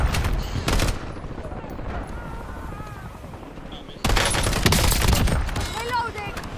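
Rapid bursts of video game gunfire during an enemy wave, loud and dense, crackling in clusters before a pause and then a heavier barrage near the end, with a voice talking over the shooting.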